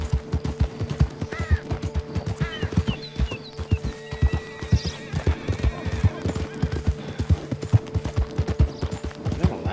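Hooves clip-clop in a rapid, continuous rhythm in a video game, with a horse's whinny and distant crow-like caws layered above the steady galloping beat.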